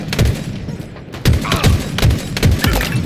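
Rapid bursts of automatic gunfire and heavy thuds from the shooter game Halo Infinite, loud and close, coming in clustered volleys with a brief lull near the start.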